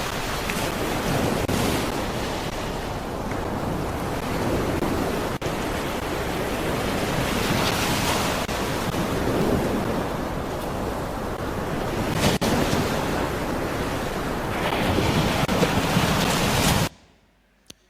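Ocean waves break and wash in continuously, a dense roar of surf with periodic swells and some wind rumble, loud and close, ending abruptly; no talking.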